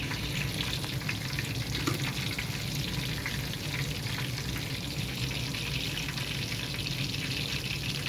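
A steady, dense crackle of chicken frying in hot oil continues without a break, close and even, with no voices.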